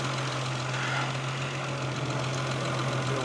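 A Triumph 2500TC engine settles back to a steady idle after a throttle blip. It makes a low, even hum close by, with no talk over it.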